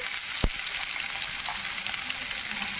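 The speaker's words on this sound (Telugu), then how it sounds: "జీలకర్ర చిట్పట్లాడుతుంది కదా" Cumin seeds crackle and sizzle in hot oil in a pan, a dense, steady hiss with a single sharp pop near the start and no one speaking.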